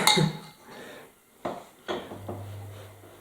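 A spoon scrapes and clinks against a dish of mushroom stroganoff, a few close, short metallic knocks and scrapes over a quiet kitchen background with a faint hum.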